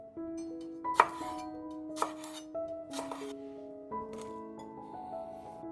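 Knife chopping two spring onions on a board, a few sharp cuts spaced about a second apart, close and fairly quiet over a steady tonal background hum, no talking.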